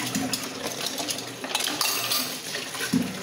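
Dishes, pots and pans clatter and clink under running water as they are washed after cooking at home, a steady close mix of splashing and metal knocks with a couple of sharper clanks.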